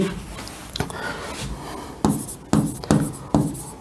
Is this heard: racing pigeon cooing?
no